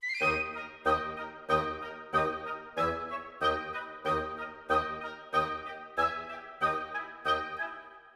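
Clarinets and bassoons play short, staccatissimo chords in a steady pulse, about fourteen crisp clipped notes evenly spaced, with no talking.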